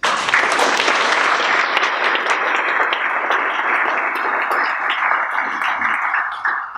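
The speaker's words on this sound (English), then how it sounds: "So can we all give these speakers a round of applause," Sustained audience applause for speakers at a talk, a dense, even patter of many hands clapping that carries on for several seconds and slowly fades.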